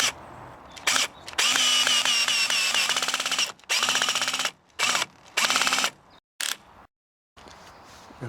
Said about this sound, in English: I'm going to put this cap on and drill through like that